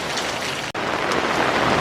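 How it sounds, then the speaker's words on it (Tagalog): Heavy rain pours steadily onto a garden, a dense, loud wash of drops with no voices, briefly cutting out for an instant midway before resuming. "Grabe, ang lakas ng ulan."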